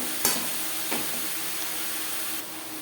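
Eggplant being mixed into fish oil in a pan: a continuous sizzling hiss with two brief spoon knocks against the pan early on, close and steady.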